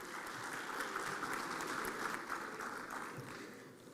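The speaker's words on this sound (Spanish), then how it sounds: "Un aplauso para todos" An audience at a film panel discussion applauds steadily, a dense, even patter of many hands clapping at moderate distance.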